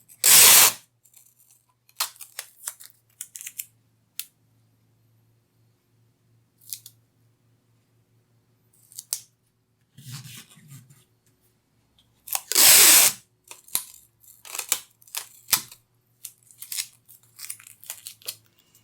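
Tape is pulled and torn in short, sharp crackling bursts as it is wrapped around a lino printing registration device, with two louder rips standing out among scattered quieter handling noises and near-silent pauses.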